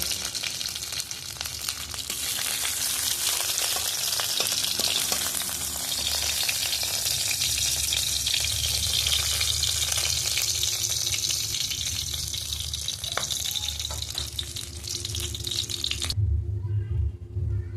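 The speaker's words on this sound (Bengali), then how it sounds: "এই যে মুড়ো কিন্তু খুব ভালোভাবে আমার ভাজা হয়ে গেছে" Fish heads sizzle steadily in hot oil in a pan, a loud, continuous frying hiss that cuts off near the end, leaving only quiet background.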